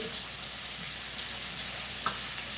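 Mustard seeds sizzling in hot oil while tempering for karamani poriyal in a home kitchen, a steady soft frying hiss with a faint crackle near the end and no talking.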